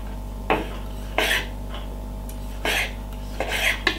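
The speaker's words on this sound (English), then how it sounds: "just get your cherry tomato or your plum tomato, any one of them you want to use, cut them up very small like this" A kitchen knife cuts cherry or plum tomatoes into small pieces on a cutting board, with a handful of crisp, separate chops spaced irregularly and close up in a quiet room.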